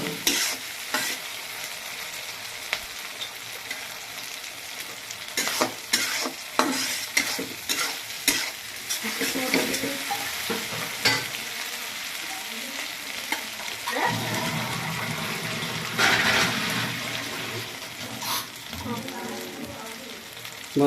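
Home-ground spice paste frying in a pan, a steady crackling sizzle with repeated scraping stirs bunched in the first half, then a louder, thicker spitting fry, heard up close throughout.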